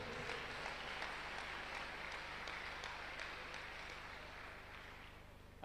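A church congregation at a Sunday worship service applauds in a steady, dense wash of clapping that holds for several seconds, fairly distant and soft, with no voices standing out.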